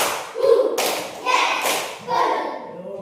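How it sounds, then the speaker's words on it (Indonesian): A school class claps along to a counted pattern, one clap, then two, then three, in separate sharp bursts mixed with children's voices. "Tepuk 1, tepuk 2, tepuk 3, tepuk 1, 2, 3."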